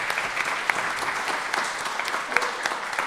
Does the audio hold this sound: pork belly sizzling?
no